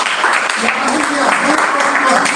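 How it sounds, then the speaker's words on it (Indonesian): Church congregation clapping in praise during an Indonesian sermon, a loud, steady wash of applause that carries on without break, with some voices mixed in. "Tepuk tangan buat Tuhan Yesus."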